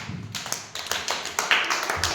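Schoolchildren in a classroom clap their hands together in a quick, slightly uneven burst of sharp claps, close by and fairly loud, with a voice briefly heard at the start.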